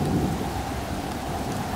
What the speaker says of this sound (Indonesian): Hujan adalah sebuah peristiwa di mana air di udara jatuh ke permukaan